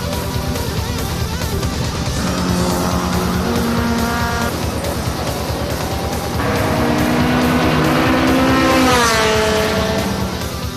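Race cars roar around a circuit in Japan, engines loud and steady, rising as a car passes close near the end, with a brief tire squeal.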